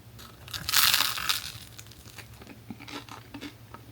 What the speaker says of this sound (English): You want to hear the crust?